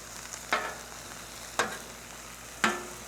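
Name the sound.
peppers and onions frying with oil on flat top grill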